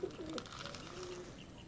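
Soft, low pigeon coos, a couple of short murmuring calls against a quiet outdoor background.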